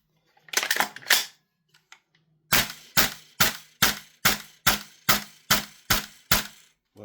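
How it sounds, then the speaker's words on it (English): A CGS gas blowback airsoft rifle, converted to Marui spec and fed from an original T8 magazine, fires a few quick shots and then a steady full-auto run of about ten sharp, evenly spaced cracks, close and loud. "Full auto now works."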